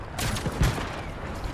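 Gunfire in Fortnite as a player lands a headshot, a short burst of several rapid loud shots close up, alone with no talking.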